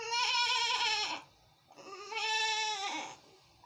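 A voice imitates a goat bleating, giving two long, loud, quavering bleats close up with a short pause between them.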